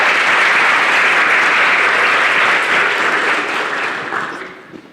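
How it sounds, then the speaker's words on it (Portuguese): Audience applause welcoming a professor to the stage at a FAPESP talk in São Paulo, a full, even round of clapping from the hall that fades out over the final second. "vamos receber o professor com uma salva de palmas"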